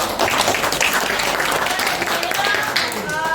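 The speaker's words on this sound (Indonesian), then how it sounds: "Tepuk tangan bagi semuanya." Applause from a classroom audience during a teaching session, a steady dense crackle of many hands clapping throughout, with voices talking over it.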